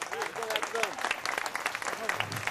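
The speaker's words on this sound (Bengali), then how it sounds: "আপনাদের ওদের সকলকে করতালি দিয়ে ওদের অভিনন্দন করুন।" An audience at an academy award presentation applauds, a dense steady clatter of many hands clapping throughout, with voices mixed in underneath.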